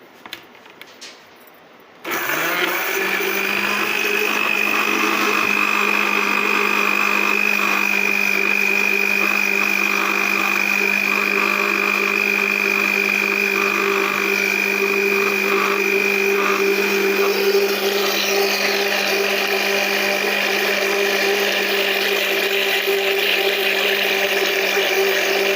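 An electric mixer whirs steadily and loudly as it blends Oreo cake batter with added milk, starting abruptly after a quiet moment and holding a constant high-pitched motor drone throughout.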